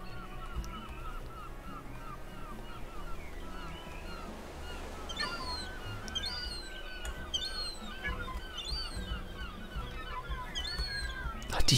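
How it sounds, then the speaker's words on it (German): Seagulls in the Minecraft video game give repeated high, sliding cries above a soft background of water and ambient game sound, moderately near and recurring every second or so. "Ach, diese Möwen."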